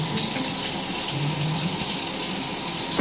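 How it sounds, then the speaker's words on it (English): Warm water pours slowly into a flour and butter mixture for an 1800s recipe, a steady, close trickle and splash that runs without a break. "We need to start putting in the water slowly."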